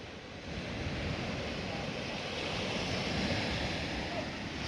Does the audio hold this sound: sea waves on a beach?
yes